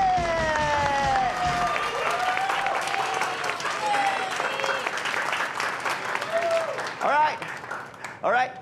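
A cooking-competition audience claps and cheers, with a continuous patter of hands and excited shouts and whoops rising over it, while voices talk loudly through the noise.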